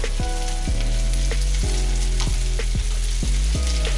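Slices of bread frying in a pan and being flipped for eggs en meurette, a steady loud sizzle with a few sharp scraping turns and clacks of a utensil against the pan.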